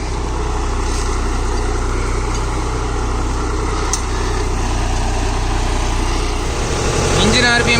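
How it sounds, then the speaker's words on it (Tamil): A New Holland 6010 Excel tractor with its engine set at 1400 rpm in medium gear pulls a duck foot cultivator, its diesel drone steady and loud from close by the whole time. "இன்ஜின் ஆர்பிஎம் பார்த்தீங்கன்னா 1400 ஆர்பிஎம் செட் பண்ணியிருக்கு"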